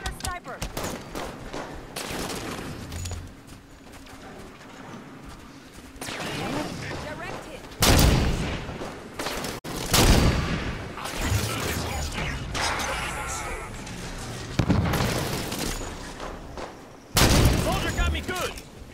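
Video game gunfire from Halo 5: Guardians, with bursts of automatic shots, heavy booming impacts and mechanical weapon clatter, loud and close in an irregular firefight, while a voice talks over parts of it.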